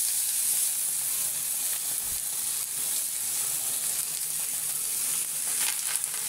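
Tilapia fish patties wrapped in banana leaf fry in a pan with a steady, close hiss of sizzling oil throughout, with small crackles and pops over the constant frying noise.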